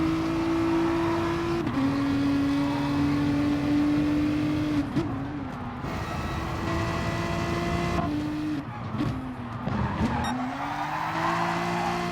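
A race car in a racing video game oversteers out of a tight left hairpin at Suzuka, its engine note holding steady and then dipping as the tyres skid and squeal, with the drone of other cars running close behind.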